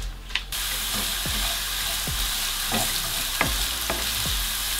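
Onions frying in sunflower oil in a pan give a steady, close sizzle that runs throughout, with a few light stirring scrapes from a utensil against the pan.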